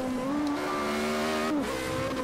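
A race car in Project CARS 2 drives with a steady, sustained engine drone that holds pitch, then shifts down briefly near the end before climbing again, loud and continuous with no talk.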